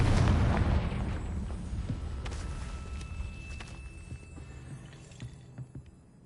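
A Confringo fire spell from Hogwarts Legacy bursts with a loud, deep boom that decays into a rumbling, crackling tail over several seconds, with no voices over it.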